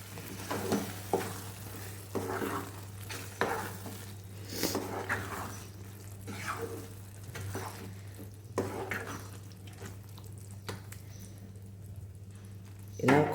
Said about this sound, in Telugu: ఇప్పుడు దీన్ని మొత్తం మిక్స్ చేసుకుందాం కర్రీలో